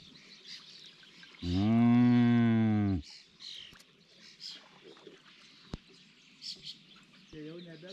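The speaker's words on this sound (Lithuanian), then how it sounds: "Estiškos karvės." Cows on an Estonian farm give one loud, sustained moo of about a second and a half, near and clear against quiet outdoor background with faint birds and small knocks.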